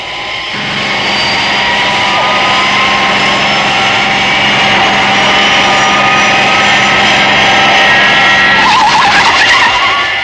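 Fireflash atomic airliner from the Thunderbirds series braking hard on a runway, a loud continuous engine roar with tires skidding and screeching, building to a harsher squeal near the end.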